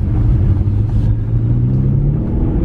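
A car's wheels spin in a puddle of water, giving a steady, loud low rumble of engine and tyre churn that holds for the whole stretch without a break.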